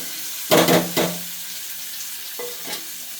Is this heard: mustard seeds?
yes